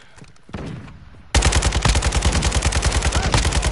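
Automatic fire from a gun in a first-person shooter game, a few scattered shots then a sudden sustained rapid burst of evenly spaced loud reports running to the end, close and with no talk over it.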